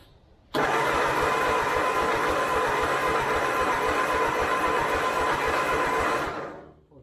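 An old Ford 8N tractor engine that has not run in decades is cranked over by the starter, a steady continuous churning drone lasting several seconds before fading out, close and loud, with no speech.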